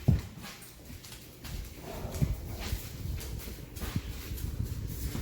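A female dog in a pack setting growls and barks loudly and aggressively in short bursts, with some whimpering and scuffling of paws close by, amid ongoing background noise.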